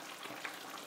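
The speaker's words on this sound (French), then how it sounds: "là ça commence à bien mijoter" Meat tajine simmering in a pot with spiced potatoes waiting to go in, a faint, steady bubbling sizzle that stays quiet and even throughout the short moment.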